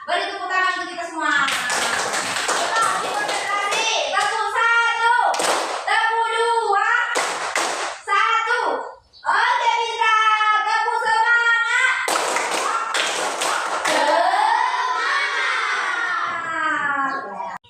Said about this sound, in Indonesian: Sekarang beri tepuk tangan untuk kita semua.